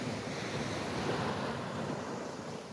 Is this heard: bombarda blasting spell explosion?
no